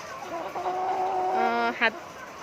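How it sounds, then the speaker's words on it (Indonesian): A 14-week-old pullet laying hen making a drawn-out, close-up vocal call that rises into a brief sharp squawk at the end, heard over a low background hiss. "Ini ayam yang remaja atau kita sebut dengan pulet."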